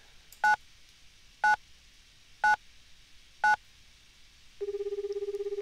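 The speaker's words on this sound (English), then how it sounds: "You dialed the same number 4 times." Touch-tone phone dialing in a visual novel game: four evenly spaced short DTMF beeps about a second apart, clean and close, followed by a pulsing ringback tone beginning at the end.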